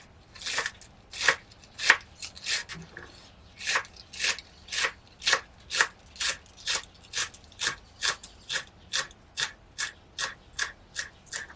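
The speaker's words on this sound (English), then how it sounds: "Cut the salad leaves into thin stripes." A knife chops salad leaves into thin strips on a board, giving a steady run of about twenty crisp, evenly spaced cuts, close up and fairly quiet, with no talking.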